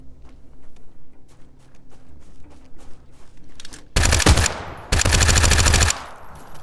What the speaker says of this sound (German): Du schießt nicht nochmal auf mich.